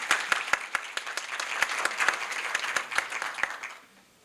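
An audience at a Korea University business school startup event applauds to welcome a speaker, with a dense spread of clapping and a few sharp, distinct claps near the mic, fading away over the last half second.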